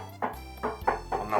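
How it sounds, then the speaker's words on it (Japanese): Several light knocks on the bare original fender panel of a Toyota Vitz RS Turbo, four or five hollow metallic taps spaced irregularly, faint and close, with no other sound. "これが元々の状態のフェンダーの音。"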